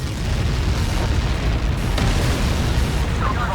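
Helios airburst missile blast in the aerial combat game Ace Combat 7, a sustained deep rumbling boom that fills the whole moment with dense low-end roar and no clear break.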